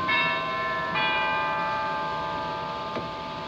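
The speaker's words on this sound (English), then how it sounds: "Also have cathedral chimes." Two cathedral chime strikes on a Robert Morton theatre pipe organ ring out about a second apart, bright and bell-like, their tones lingering and slowly fading.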